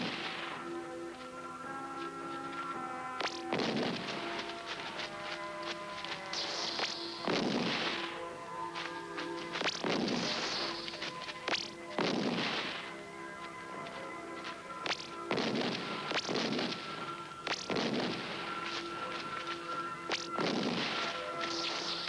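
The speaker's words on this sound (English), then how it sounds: "The electro bombs." Electro bombs in a 1979 Italian sci-fi film go off as a series of booming, crackling blasts with bursts of sharp static, repeating every couple of seconds over a droning background.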